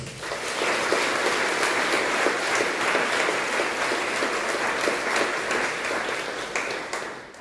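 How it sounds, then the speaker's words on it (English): A steady round of applause fills a school academic awards ceremony for the class of 2020 at Parktown High School for Girls, dense clapping from a large audience holding an even level throughout before tapering at the very end. "they, together with the class of 2020, deserve a round of applause"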